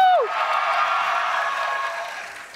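A live show audience cheers and claps loudly, a broad roar of crowd noise that swells and then gradually fades, with a brief tonal whoop or effect at the very start.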